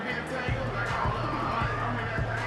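Home stadium crowd in the football video game Madden NFL 25, a steady roaring murmur of fans filling the background while a commentator voice talks over it.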